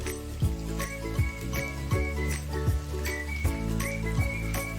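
Chicken pieces sizzle in fried spices for a chicken korma, with regular scraping strokes of a spoon stirring the pan and occasional metallic clinks. The sound is close, with no voices.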